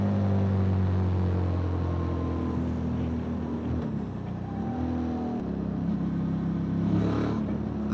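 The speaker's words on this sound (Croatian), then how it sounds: "Zvuk, iako je tvornički, znači vjerujte mi, čuje se bolje nego današnji neki novi motori sa uspuhom." A Rieju Xplora 557 motorcycle with its stock exhaust runs steadily and fairly loud throughout, a continuous engine drone that shifts pitch slightly as the revs rise and fall, with no voices over it.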